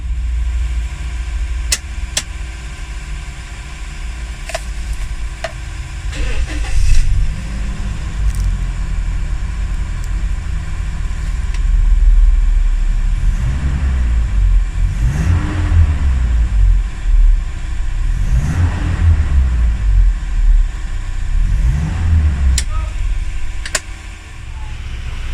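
A car engine after a minor tune-up, earlier troubled by misfire, low idle and vibration, idles near the mic and is revved several times in a row, each swell rising and falling over a steady rumbling base.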